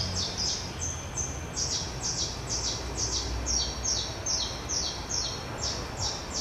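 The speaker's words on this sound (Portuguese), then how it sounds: "E um pássaro cantando." A bird sings far off, repeating a short, bright chirping phrase over and over at an even pace, faint above a low background hum.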